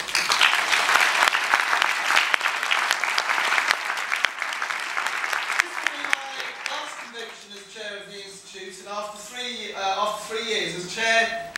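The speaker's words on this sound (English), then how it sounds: "I think they deserve a huge round of applause." Loud applause from a fundraising convention audience fills the first half, then thins and fades as a voice begins speaking over the last few seconds.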